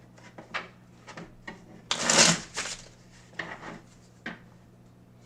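Playing cards being shuffled in a blackjack video game, a six-deck shoe at a casino table, heard as a brisk riffling burst near the middle amid scattered soft clicks and rubs, with no talking.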